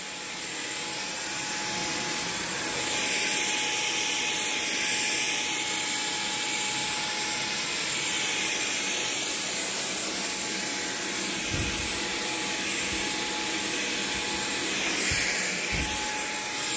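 A Shark Vertex Corded Ultralight vacuum cleaner runs continuously with a steady high-pitched motor whine, close and moderately loud, while a few low thumps from the floor head bump along.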